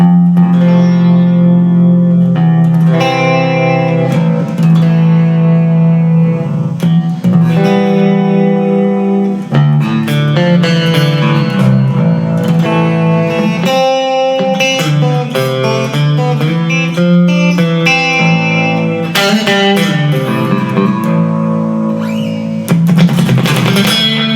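A low, heavy Gretsch Jet Electromatic baritone electric guitar in A-to-A tuning plays riffs with effects and reverb, deep low-string notes ringing under busy licks, loud and continuous with no voices.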